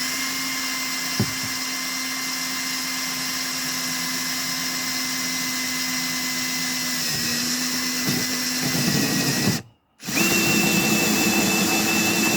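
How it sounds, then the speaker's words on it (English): A power drill with a hole cutter bores through the rear bumper of a Rover 45, giving a steady droning whine with a constant hum, a short break near the end, then drilling resumes at a slightly higher pitch. "what we're going to do is use a hole cutter to initially cut the hole"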